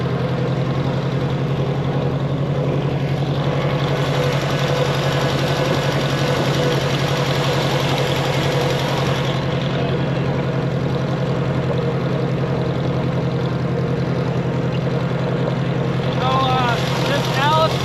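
Vintage Allis-Chalmers tractor built by Renault, fitted with a loader, running at a farming show. A steady, loud, throbbing engine note continues throughout, and a voice speaks over it.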